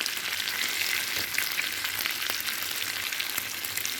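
Fish frying in a pan of oil gives a loud, continuous hissing sizzle, close and unbroken throughout, with faint crackles and no voices.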